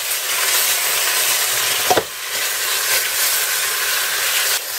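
Pieces of pork neck fry in a hot pan, a loud, continuous sizzle and hiss with a brief clatter near the middle as the meat is turned.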